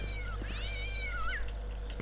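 Cats meow in the Postal 2 video game, a couple of drawn-out rising and falling meows close by over a steady low game drone.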